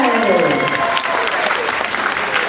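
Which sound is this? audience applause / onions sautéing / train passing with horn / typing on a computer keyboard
audience applause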